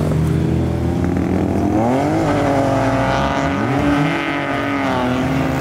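A modified car leaving a car meet revs hard and accelerates, engine note climbing and shifting in a loud, close, continuous roar with no talking.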